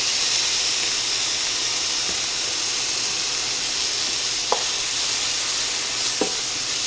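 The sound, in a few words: vegetables and minced garlic sizzling in a pan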